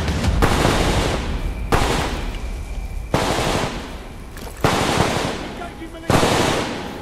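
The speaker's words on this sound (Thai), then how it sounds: "ยิงใครกันอยู่วะ" Loud automatic gunfire in the shooter Titanfall 2 comes in about five sustained bursts, each starting with a sharp attack and then fading, close and dominant.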